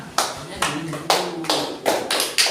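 Slow, separate hand claps, about six evenly spaced in a small room after a classroom presentation, each a sharp crack with a short tail over faint background noise.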